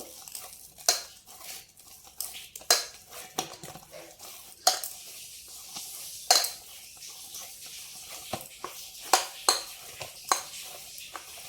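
Risen, spongy aloo kulcha dough kneaded by hand gives off irregular soft slaps and sticky presses, close up, in short uneven bursts with quiet gaps and no talking.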